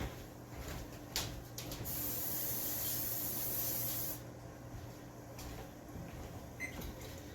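A steady hiss of cooking spray from an aerosol can onto an air fryer for donuts, one continuous burst of about two seconds, close up amid faint kitchen handling noises.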